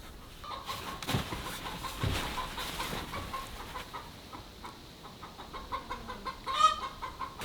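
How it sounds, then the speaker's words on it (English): Chickens clucking and squawking in an agitated fit near a campervan, repeated close calls scattered over a quiet background, with a louder squawk toward the end. "the chickens were just having a wobbly"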